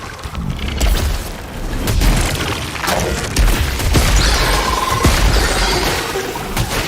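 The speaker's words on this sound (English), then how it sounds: "you have these waves of lasers still coming at you, even though the enemy's dead" Enemy laser waves firing in the bullet-hell shooter Returnal, a continuous barrage of booming pulses, crackles and bright zaps at steady loudness, with no speech.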